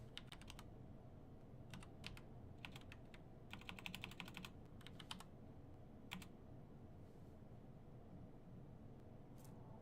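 Typing on a computer keyboard, bursts of quick clicking keystrokes with short pauses between them, close and fairly quiet against a steady background hiss.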